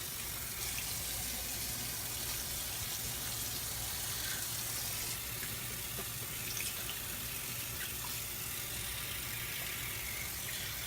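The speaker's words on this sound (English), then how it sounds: "I'm gonna just wash it out real quick." A tap runs in a steady, unbroken hiss of water as a sandalwood-lathered Envy shaving brush by Nathan Clark is rinsed out, quiet and continuous throughout.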